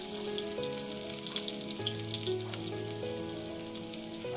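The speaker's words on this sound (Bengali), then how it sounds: "এবার একে একে সব বেগুনগুলো দিয়ে দিচ্ছি।" Stuffed brinjals sizzling in plenty of oil in a wok, a continuous crackling fry with steady hiss and faint tonal hum from the kitchen underneath, no voices.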